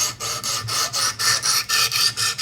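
A Buck 110 knife blade being sharpened on a Wicked Edge with 100 grit stones, a close, loud rhythmic rasping of about ten up-and-down strokes in quick, even succession.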